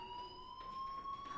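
A fire alarm rings inside the video game Life is Strange, a steady electronic tone held continuously with faint pulsing in the background.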